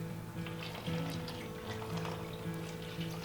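Warm water pours faintly into a stand mixer bowl for roll dough, a soft, steady liquid trickle over a low background hum.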